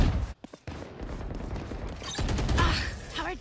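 Dense gunfire from a tactical shooter video game, with rapid overlapping shots and bursts that run almost without a break. Excited player voices talk over much of it.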